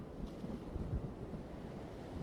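Storm and ocean waves ambience plays during a Call of Cthulhu tabletop role-playing session at sea, a low, soft rumble of surf and wind that swells gently and stays faint throughout.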